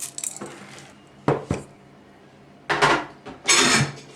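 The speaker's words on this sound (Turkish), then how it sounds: "Şimdi tencereye koyuyoruz." Clattering of okra dropped into a metal cooking pot, a few separate knocks followed by two louder bursts of tumbling, rattling pieces, up close.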